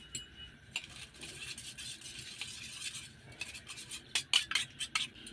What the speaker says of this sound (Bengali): দিয়ে ডিমটাকে ভালো করে ফেটিয়ে নেব